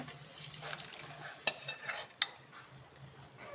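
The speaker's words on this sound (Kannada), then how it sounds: "ಈಗ ನಾವು ಏನು ಕಡಲೆಕಾಳು ಬೇಯಿಸಿದ್ವಲ್ಲ ಅದು ಹಾಕೊಂಡ್ಬಿಡ್ತಾ ಇದ್ದೀನಿ ಇದಕ್ಕೆ" Soft sizzling and stirring as boiled chickpeas are added to frying masala in a pan, with a couple of sharp clinks of a utensil against metal; quiet and close.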